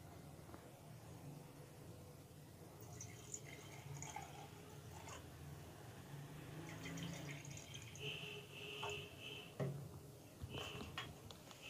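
Water is poured into a glass of lemon mint drink, making a faint, soft trickle and some gentle drips that are quiet and close against a low background hum.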